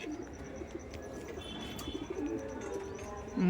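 Pigeons, including a female, coo softly in low, repeated throaty murmurs in a pigeon loft over a faint ambient hum, with a slightly louder sound at the very end.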